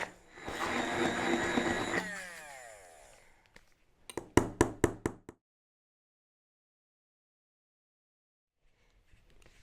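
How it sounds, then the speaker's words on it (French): An immersion blender whirs loudly for a few seconds while pureeing unpeeled figs, then stops; a quick series of sharp knocks follows before near silence. "Avec mon mixeur plongeur, je vais donc tout simplement réduire tout ça en purée."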